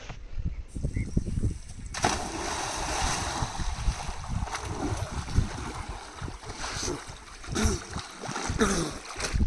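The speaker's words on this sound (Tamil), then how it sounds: "தண்ணி நல்லா வேகமாக இருக்குங்க" Fast-flowing water rushes through the canal of the Theni aqueduct bridge, a continuous close wash and splash with gusts of wind and faint voices underneath.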